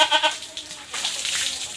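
A goat bleats twice in quick succession, wavering and close, followed by a noisy rustle or scuffle.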